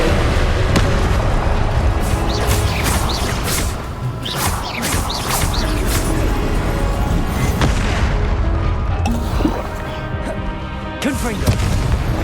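Confringo explosive spell blasts in the video game Hogwarts Legacy, a dense run of repeated booming, crashing impacts layered over game sound, with spell cries heard amid the clatter.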